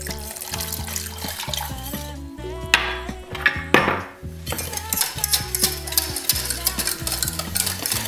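Stirring a banana sorbet mixture with water in a pot: a utensil scrapes and clinks against the pot with sloshing liquid, steady throughout apart from a brief lull midway.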